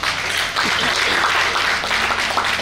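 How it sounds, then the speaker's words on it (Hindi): Loud, sustained applause from a team gathered at a farewell event, a dense, continuous patter of many hands clapping for nearly three seconds with some voices mixed in. "आप अपने लिए जोरदार तालियां बजाओ भाई"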